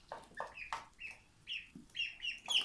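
Panicking ducks squawk and cluck in quick, agitated bursts, a flurry of sharp alarmed calls close by.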